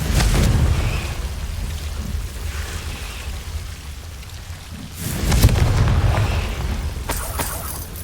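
Confringo blasting spells explode in Hogwarts Legacy, with a booming burst at the start and another heavy blast later, rumbling like thunder over a continuous rain-like background hiss.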